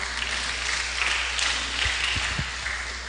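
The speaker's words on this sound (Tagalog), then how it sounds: "Palakpak po." Applause from a congregation at a midweek church worship service, a steady broad wash of clapping running throughout, with a few sharper individual claps standing out near the end.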